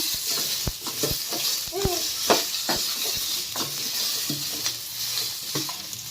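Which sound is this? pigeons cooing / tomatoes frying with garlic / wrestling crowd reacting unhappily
tomatoes frying with garlic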